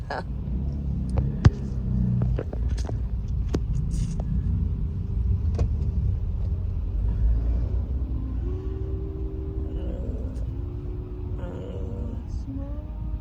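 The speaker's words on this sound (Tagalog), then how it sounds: "Traffic again" Road traffic rumbles from inside a moving car in a Philippine neighborhood, with a steady low engine and tire drone, a few faint clicks and a passing tonal hum toward the end.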